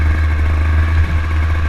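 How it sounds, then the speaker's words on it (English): Two-stroke motorcycle engine running on a trail, a steady, close, even drone with no break across the short stretch and no talking. "This 2-stroke is so nice and quiet."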